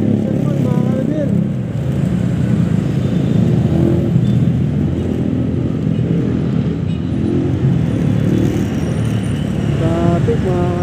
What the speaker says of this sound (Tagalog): Traffic mga kalabin.